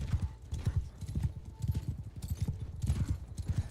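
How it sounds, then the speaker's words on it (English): A slow sumpter horse's hooves clip-clop steadily in the video game Bannerlord, a continuous, close rhythm of muffled thuds with a faint whinny-like tone in the mix. "My Sumpter horse is so slow."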